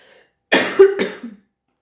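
A woman gives two close, sharp coughs in quick succession, loud and abrupt, the second one shorter and followed by a brief throaty trail before silence.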